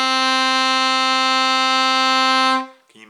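A single sustained A on an alto saxophone, bright and even with strong overtones, held for roughly two and a half seconds before fading out, followed by a short bit of speech.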